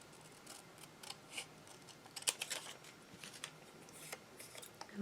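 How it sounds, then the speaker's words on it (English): Small scissors snipping dark edges off paper for a handmade tiny book, a quiet series of crisp close clicks and cuts at an uneven pace, with no talking. "I'm going to cut off these dark edges here"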